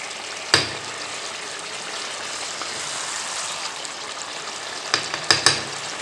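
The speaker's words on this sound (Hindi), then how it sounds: "बस थोड़ा सा आहिस्ता से इसका चम्मच जो है ना हिलाना है ताकि बोटियाँ अपनी शेप में ही रहे।" Chicken karahi frying in a pot with a steady soft sizzle, broken by a few sharp scraping clinks of a spoon stirring the pieces near the start and again toward the end; no talk.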